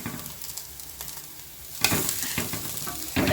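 Vadas frying in hot oil bubble with a steady sizzle, then a sharp rise in crackling as they are turned over, with a couple of clattering touches from a spoon.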